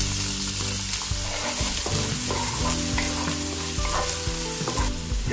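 Onion sautéing in olive oil with cumin seeds, a loud, steady sizzle and crackle that runs unbroken throughout, close up and with no talking.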